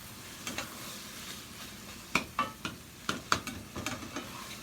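Seasoned, partly mashed beans are stirred in a pot with a spoon, giving soft scraping strokes and several sharp clinks against the pot in an irregular rhythm, no talking.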